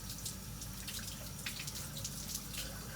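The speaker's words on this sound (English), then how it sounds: "I'm going to start off by rinsing all the way up past my elbow," Tap water runs steadily into a sink as arms are rinsed from fingertips to elbow during a surgical hand scrub, a soft continuous splash with faint drips.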